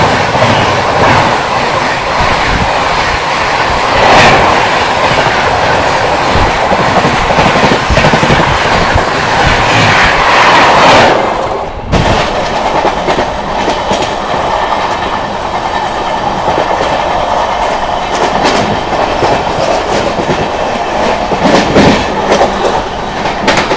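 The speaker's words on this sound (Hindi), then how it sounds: "सामने से आ रही है 12308 जोधपुर हावड़ा सुपरफास्ट एक्सप्रेस, अमृत भारत को सिंक करने के लिए वैप 7 के साथ में।" Jodhpur-Howrah Superfast Express (12308) hauled by a WAP-7 electric locomotive passes at speed on an adjacent line near Shikohabad station, a loud, steady rush of rolling wagons with rhythmic clickety-clack wheel beats heard close from a moving train.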